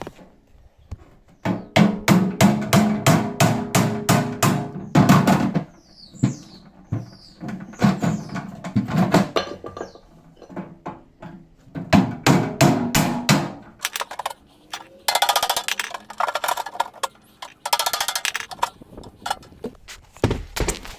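A screwdriver is hammered into the welded seam of a Yale safe in rapid metallic strikes, loud and close, coming in several bursts of rhythmic blows with short pauses between.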